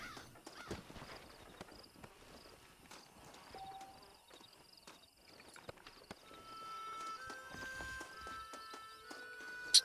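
Horse hooves clip-clop on the ground in the video game Red Dead Redemption 1, with steady, moderately loud steps amid scattered game ambience and a brief tonal whinny-like sound near the end.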